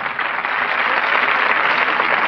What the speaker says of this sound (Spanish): un aplauso a Cristina, que está muy nerviosa.